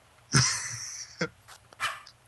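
A cartoonish puppy in the Nintendogs video game gives a few short, high yips and barks, one longer bark followed by brief quieter ones, clear over a low background hum.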